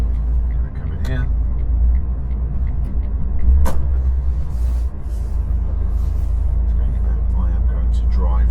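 Steady low engine rumble and road noise from inside a car moving slowly past a small van, with a few clicks and knocks from the cabin, while someone talks throughout.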